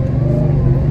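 Dodge Charger Hellcat Redeye engine roaring steadily under throttle, a deep, loud, continuous rumble lasting under a second while the tires lose traction at low speed.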